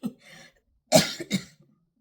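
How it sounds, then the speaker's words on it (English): A person coughs twice, close and sharp, after a brief quiet breath or murmur. "Now I'm going to cough."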